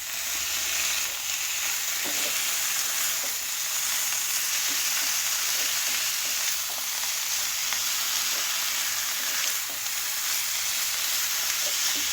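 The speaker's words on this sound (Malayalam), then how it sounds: "ഞാനിവിടെ അര കിലോ ബീഫാണ് എടുത്തിരിക്കുന്നത് അത് ചേർത്ത് നന്നായിട്ടൊന്ന് ഇളക്കിയെടുക്കാം" Half a kilo of beef is stirred into frying masala for a beef roast, a loud, steady sizzle with occasional faint stirring scrapes, close and without talk.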